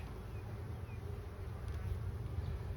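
Honeybees from an overwintered nucleus colony fill the air with a steady, dense buzz that holds at an even level throughout, with no voices.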